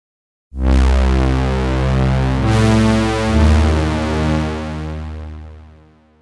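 A film score super saw synth patch swells in with the filter open, a thick, bright sustained chord that brightens midway and slowly rings out and fades, with no talk over it.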